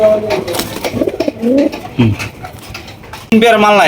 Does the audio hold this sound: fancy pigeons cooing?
yes